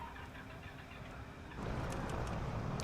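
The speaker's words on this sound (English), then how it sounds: "Listen to those engine sounds" A simulated aircraft engine spins up at startup in Microsoft Flight Simulator, near Leeds Bradford in Great Britain: a low, faint whir builds, then catches into a louder, steady broadband roar for the last second or so.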